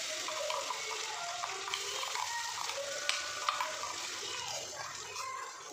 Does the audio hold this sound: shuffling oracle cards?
no